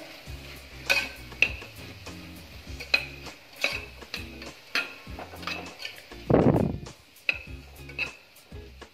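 A spoon stirring chili powder into butter chicken masala in a pan, a string of close metallic clinks and scrapes against the pan at an uneven rhythm, with one louder scraping burst partway through and no talk.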